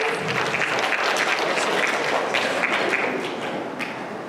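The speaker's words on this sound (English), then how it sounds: "give another round of applause to all of our contestants" An audience applauds contestants steadily at a convention dating-game event, a dense wash of clapping that holds for several seconds and tapers slightly at the end.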